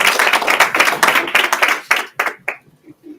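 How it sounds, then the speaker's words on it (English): An audience at a business event celebrating women entrepreneurs claps for the first speaker, several loud rhythmic bursts that thin out to a few last claps and then stop. "Give a big round of applause for our first one, Steve."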